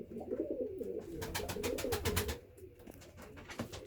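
A male white pigeon coos while courting a white female, a steady run of soft low rolling coos close by, with a few sharp flutters or scratches over it.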